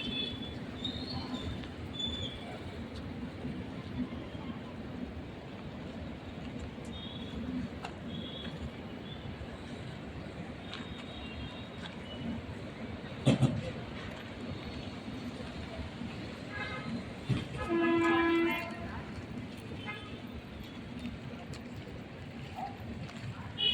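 Trains at Sitafalmandi railway station, with steady rumbling rail noise throughout, a sharp clank partway through and a brief tonal squeal or horn near the end, amid station ambience and faint background voices.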